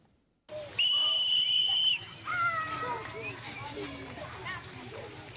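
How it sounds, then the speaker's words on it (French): A schoolmaster's whistle at Paspanga D public school blows one long, loud, steady blast to mark the end of classes, followed by the chatter and shouts of children in the schoolyard. "Le son du sifflet du maître de la semaine de l'école Paspanga D retentit."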